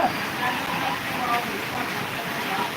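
Heavy rain floods the streets of Bathinda, a dense, steady roar of downpour and running water that stays close and loud throughout, with a voice speaking beneath it.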